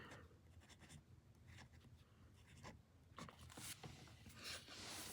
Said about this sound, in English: So I'm going to write that here under the amount column.